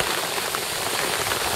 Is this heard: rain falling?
yes